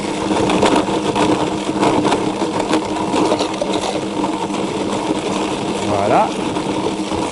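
A Blendtec blender runs at low speed blending fresh coconut, a steady motor whir with churning that fills the whole stretch while a person speaks briefly over it.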